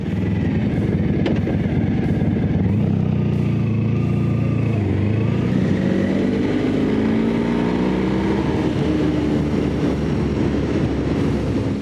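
A restored Honda motorcycle engine starts and runs loud and close, with a steady throbbing idle that rises and settles as the revs change, no talk over it.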